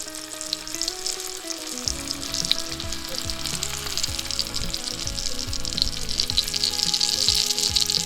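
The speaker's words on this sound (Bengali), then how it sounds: "যত এই জিনিসটা মিডিয়াম ফ্লেমে কষানো হবে তত কিন্তু এটার থেকে তেল ছাড়বে" Chicken jhal masala sautéing on a medium flame, with loud continuous close sizzling and frying, broken by scraping stir strokes that come in an uneven rhythm.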